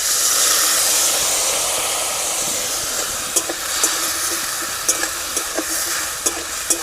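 Onion, green chilies and ginger paste with a splash of water fry in a pan for a Bengali drumstick-flower dish, giving a steady broad hiss and sizzle with a few sharp clicks and taps of a utensil toward the end.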